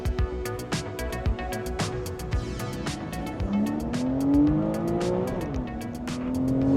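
A Porsche Cayman engine pulls hard and rises in pitch through gears, with sharp clicks and a whine over a steady drone.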